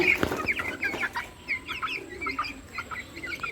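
Brahma chickens cluck in low, steady bursts while thin chick peeps chatter above, a busy, close flock sound with no talking.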